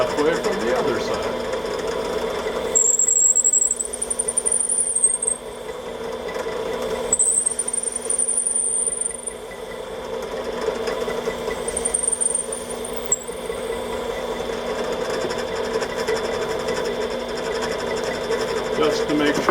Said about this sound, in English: And drill it halfway from the other side.